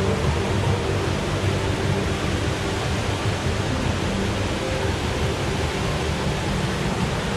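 A steady, full-bodied roar from the indoor waterfall at Jewel Changi Airport in Singapore, with rushing water that stays even and continuous throughout and no one speaking.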